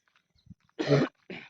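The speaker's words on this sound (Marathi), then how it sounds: "पावसात काल भिजले जरा येताना, ते थोडं खोकला येतोय" Two short, sharp coughs close by from a woman who got soaked in rain, the first stronger, each a quick harsh burst after faint rustling.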